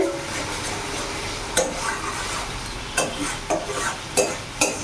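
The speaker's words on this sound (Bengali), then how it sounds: "ভালো করে কষিয়ে নেব যতক্ষণ না তেল ছেড়ে দিচ্ছে।" Rui fish in poppy seed curry fries in oil in a pan on a gas flame, with a steady close sizzle and several sharp scrapes and clinks of a spatula stirring through it.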